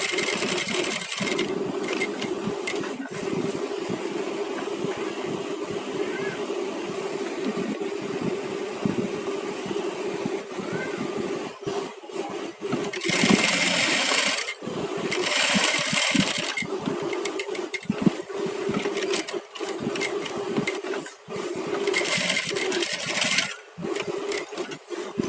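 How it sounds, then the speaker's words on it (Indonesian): A sewing machine stitches a patch pocket in bursts: steady motor whirring with several loud, fast runs of stitching separated by quieter pauses and handling noise. "Jadi menjahit saku tempel pun ada tekniknya."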